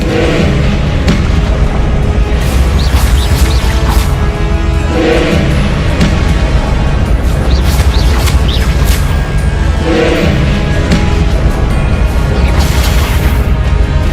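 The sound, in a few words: spell explosions in the video game Hogwarts Legacy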